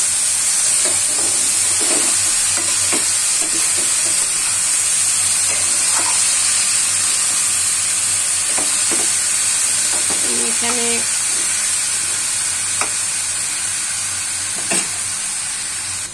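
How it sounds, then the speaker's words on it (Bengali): Broccoli frying in a pan on lowered heat, a steady bright sizzle with soft stirring scrapes and clinks throughout, close and continuous, with a voice talking briefly over it. "ব্রোকলি দিয়ে চুলাটা একটু কমিয়ে নিব, হালকাভাবে নাড়ব।"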